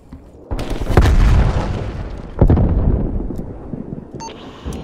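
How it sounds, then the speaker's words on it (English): A frag grenade blast in Call of Duty Black Ops Cold War during a Domination match: a loud, deep boom, then a second heavy explosion about two seconds later, both rumbling out over the battle ambience. "Throwing frag grenade."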